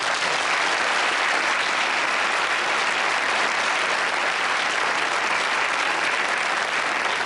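A studio audience at a television game show applauds in a dense, steady wash of clapping that holds at full loudness for the whole stretch.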